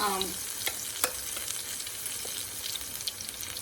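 A batch of vegetable pakora fries steadily in hot oil, a continuous close sizzle and bubbling with a few small clinks of a utensil stirring, no voices.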